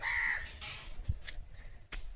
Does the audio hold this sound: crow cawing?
yes